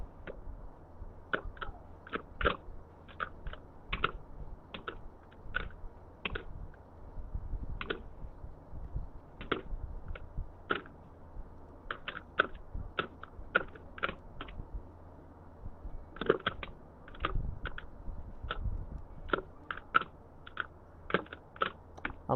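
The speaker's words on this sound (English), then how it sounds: "I see some typing happening in the room." Clicky keystrokes on a computer keyboard tap out in irregular bursts, close and fairly quiet, in a room during a game stream, with no talking over them.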